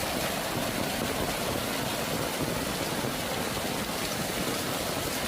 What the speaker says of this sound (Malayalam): ഇവിടെ നമ്മുടെ ഷീറ്റിൻ്റെ മുകളിൽ നിന്നുള്ള വെള്ളം വീഴുന്നുണ്ട്